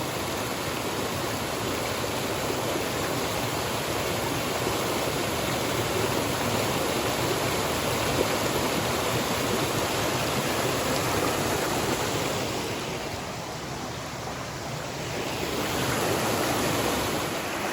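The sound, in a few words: waterfall and creek at Middle Quail Falls in rainforest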